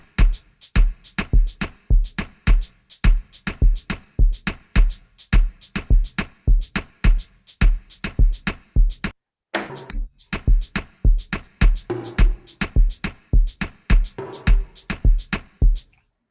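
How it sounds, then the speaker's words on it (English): Afrobeat drum pattern built from layered, composite drum sounds: sharp, punchy hits in a steady, syncopated groove repeat throughout, with a brief pause partway through, and no voices. "I'm starting with the pattern, the drums, because I think that's where the heart of the Afrobeat lies"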